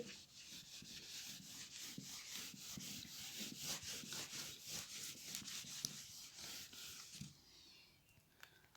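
A board is rubbed clean during a Class 9 maths lesson, giving steady, faint, scratchy back-and-forth strokes with no talking that fade out near the end.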